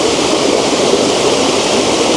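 Lower Campsie Falls roars as a dense, steady rush of falling water. It is loud and close, heard from right in the stream, with no other sounds over it.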